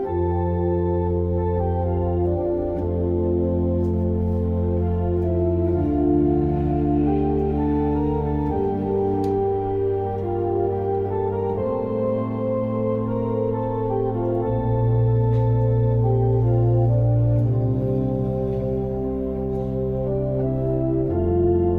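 A pipe organ plays the hymn tune O Waly Waly with pedal board bass, sustained chords moving slowly and evenly over a deep foot-played line for about twenty seconds, alone and without talk.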